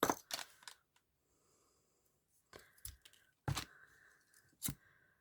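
Scissors snip hair bow material while a Halloween shaker hair bow is made at a craft table, giving a few sharp, close clicking cuts separated by short quiet gaps.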